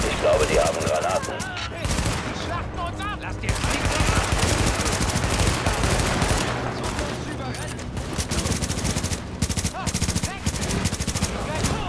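Sustained bursts of automatic gunfire from a firefight against enemies on a rooftop in the video game The Division, dense and continuous for the whole stretch, with a voice occasionally talking over it.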